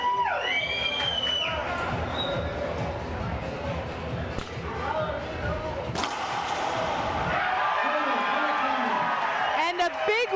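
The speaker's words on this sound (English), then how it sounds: "The crowd on their feet, loving it." A crowd roars and cheers steadily at the 2014 WRT Juarez Grand Slam racquetball final, a dense wash of voices with thuds and slams of play mixed in.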